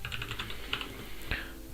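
Computer keyboard typing in bursts of quick, light key clicks with short pauses, close and fairly quiet, no talking.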